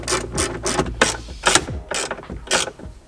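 A hand ratchet drives small flathead screws into a Tacoma console safe, giving close, quick clicking bursts in an uneven rhythm, about seven strokes in a few seconds.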